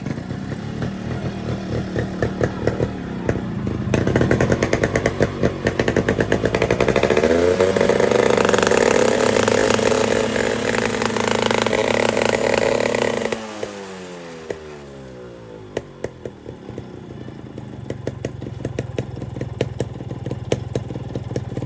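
A motorcycle engine fired up and revved hard, a loud, close, clattering putter that swells into a sustained high rev, then drops back to a rough idle with a rattling, uneven beat.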